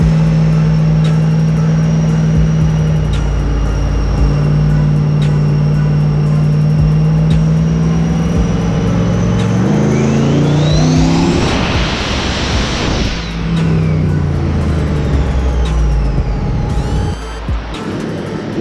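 A turbocharged 6.0L V8 swapped into a Nissan 240SX roars on a dyno, holding a steady drone before sweeping up hard in revs to a loud, rising peak and easing back down, with turbo whine over the engine.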